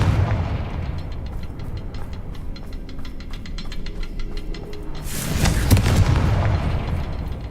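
A Confringo fire-blast spell bursts in Hogwarts Legacy, played on a gamepad: a low rumbling explosion swells near the end over a backdrop of rapid rhythmic ticking game effects.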